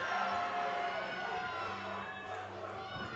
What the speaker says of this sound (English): The crowd is going nuts for Mr.